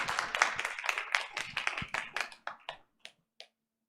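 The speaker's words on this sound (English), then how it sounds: "Give them a round of applause" Audience members at a board of education meeting clap after an oath of office, a scattered patter of hands that thins to a few last isolated claps and then silence.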